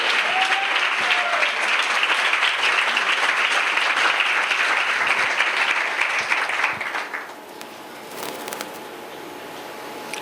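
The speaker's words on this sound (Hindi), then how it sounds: "ताली बजाएंगे जरा यीशु मसीह।" Church congregation applauding loudly and steadily for about seven seconds during a sermon, then the clapping drops away into a quieter room with scattered sounds.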